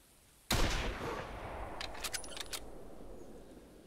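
A single loud 7.62x54R rifle shot cracks out close by in the hunting game theHunter Classic, taken on an animal without a scope. A long echoing tail rolls away afterward, followed by a few faint clicks.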